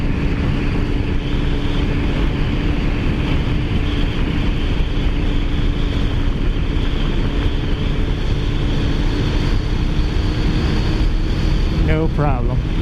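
A Kawasaki ZX14r motorcycle rides in 4th gear through steep turns near Gila Bend, its steady engine drone buried under constant heavy wind roar for the whole stretch.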